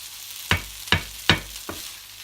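Paneer bhurji with spring onion is stirred in a frying pan, four distinct spoon scrapes at roughly even intervals over a low, steady sizzle, close and moderately loud.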